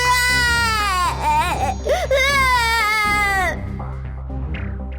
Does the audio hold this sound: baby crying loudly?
yes